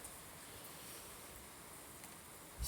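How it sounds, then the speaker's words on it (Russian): Strong wind roars steadily through a broadband rush during wind and sideways rain, with a brief louder gust near the end. "Сильный ветер."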